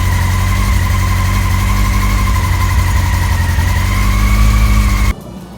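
A 2001 Yamaha R6 sport motorcycle, its carburetors just rebuilt after sitting six years, idles steadily and loudly up close with a constant droning tone, then cuts out abruptly near the end, leaving quieter background.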